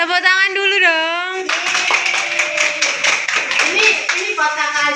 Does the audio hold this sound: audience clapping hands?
yes